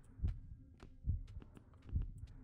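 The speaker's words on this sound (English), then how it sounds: "Just listen to the heartbeat." A heartbeat from the horror video game Backrooms thumps in a slow, steady rhythm of soft, low double beats, fairly quiet and alone.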